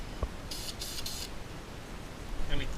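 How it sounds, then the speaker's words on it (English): A spray can sends short test bursts of clear coat paint for brake calipers on a Nissan 300ZX, three quick hissing puffs close by, then a fainter fourth burst near the end. "I like to check spray"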